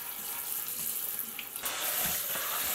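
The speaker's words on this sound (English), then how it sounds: "turn on that cold water, rinse it out" Cold water pours from a tap into a sink for rinsing, a steady hiss that grows louder and fuller partway through as the flow hits the basin.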